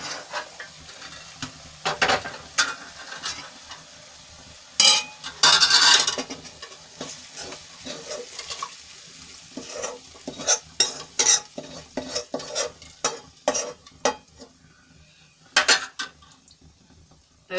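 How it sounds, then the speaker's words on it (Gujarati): Spices sauté in a pan for a lentil dal. A spoon scrapes and clinks against the metal pan in irregular bursts over a faint, steady sizzle, with no voices. "હવે સરસ રીતે મસાલા આપણે મિક્સ કરી લઈશું અને થોડી વાર સુધી 1 મિનિટ સંતળાવા દઈશું"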